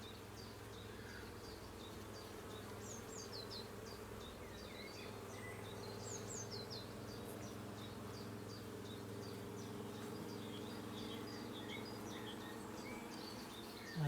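A steady, dense buzz of honey bees swarms around hive frames during a routine late-April inspection, with a constant low hum and scattered higher buzzing wingbeats close by, continuous throughout and no talk.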